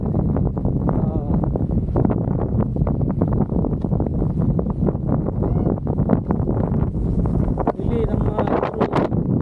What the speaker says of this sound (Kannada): ಭಯಂಕರ ಗಾಳಿ ಬೀಸ್ತಾ ಇದೆ